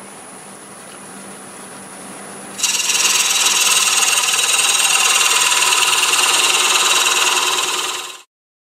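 A freshly sharpened parting tool cuts into segmented wood spinning on a lathe at about 575 RPM, starting after a quiet hum with a loud, steady rasping scrape that holds for several seconds before cutting off abruptly.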